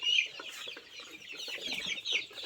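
Several chickens cluck and chatter continuously nearby, a busy flock with overlapping calls.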